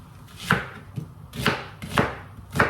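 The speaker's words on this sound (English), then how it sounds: "I have to chop the onions" A knife chops onions on a board during jollof rice preparation, about six crisp, close strokes at an uneven, unhurried pace with nothing else heard.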